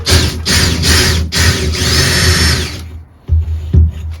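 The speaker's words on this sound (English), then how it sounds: "So we're going to drill these holes, start getting the battens on the wall." A power drill whines loudly in several sharp bursts, drilling holes in a shed wall for battens, revving and stopping, close to the microphone, with a brief pause near the end.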